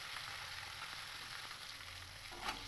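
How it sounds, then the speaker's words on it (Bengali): Khoyra fish sizzles softly in hot oil in a pan, a steady, fairly quiet frying hiss with a brief louder spatter near the end as the fish is turned over. "এবার আমি উল্টে দিয়ে আরেক সাইডও ভেজে নেব।"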